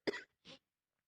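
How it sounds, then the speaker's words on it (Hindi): Two short, close coughs from a person indoors, the first sharper and louder, the second softer, separated by a brief pause and followed by silence. "अरे राम राम राम राम, खांसी आ गई।"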